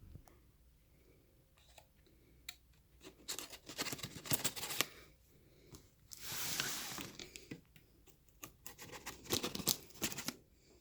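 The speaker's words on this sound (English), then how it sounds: "go ahead and cut this box open" A sharp knife slices through the tape and cardboard of a subwoofer shipping box in a series of uneven scratchy cuts and ripping strokes, close and fairly quiet.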